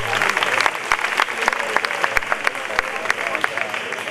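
Audience applause for fandango flamenco singing finalists at the Noches de Bajo de Guía contest final, with brisk, close clapping and sharp individual claps under a lively crowd.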